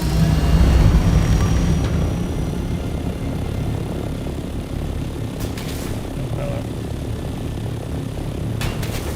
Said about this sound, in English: Because I need to try and navigate out of here in a chopper.